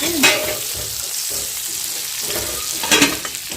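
Stuffed brinjal frying in a pan of oil over a low gas flame with coriander and curry leaves. A steady close sizzle runs throughout, with a few louder spatters and stirring scrapes near the start and near the end.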